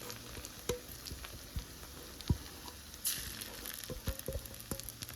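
Coimbatore-style biscuit halwa mixture stirred in a pan over a low flame: scattered close scrapes and taps from the spoon ride over a soft, steady sizzle, with no voices.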